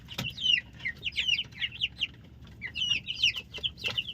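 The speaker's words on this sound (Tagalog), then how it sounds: "So mga boss, may mga pag-asa pa ba itong mga sisiw ko" Broiler chicks in a growing pen chirp and peep continuously in rapid, overlapping high calls with a few soft clucks, fairly close and steady throughout.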